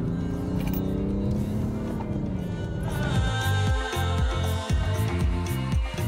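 A BMW 435d xDrive diesel accelerates hard, its engine note climbing through gear changes with a steady loud drone and rhythmic pulses in the second half, close and continuous with no talk.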